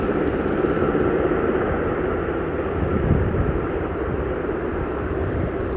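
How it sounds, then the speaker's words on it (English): A white Sikorsky aircraft at Aberdeen Airport produces a steady, broad engine roar that holds at a constant level throughout, heard from a moderate distance. "Lovely white Sikorsky."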